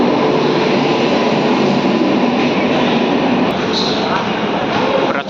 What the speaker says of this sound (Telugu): ప్లాట్ఫామ్ నెంబర్ 1లోకి అయితే మన ట్రైన్ వచ్చింది